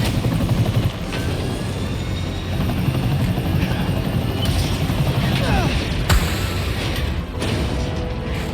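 A helicopter rampaging through the city during the Wrecking Ball sequence of a Spider-Man video game gives a constant heavy rotor rumble, loud and close, punctuated by occasional booms and impacts, with talk over it.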